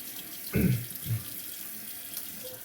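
Tap water runs in a steady, close stream to wet the face before a shave, with a couple of brief clunks near the start and no talking.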